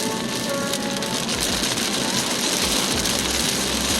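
Rain falls steadily in Dehradun, a dense, even hiss close by, with low rumbles of passing vehicles underneath and no speech.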